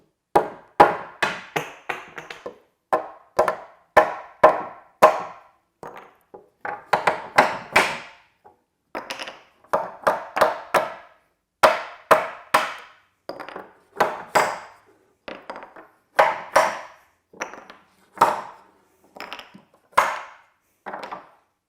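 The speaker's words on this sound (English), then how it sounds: "How those blocks can hold so well while we're doing the clamping, but they pop right off when we give them that sideways pressure." Wooden clamp blocks held with CA glue being knocked off sideways, a long series of sharp, close wooden knocks in uneven clusters with short gaps, loud and alone.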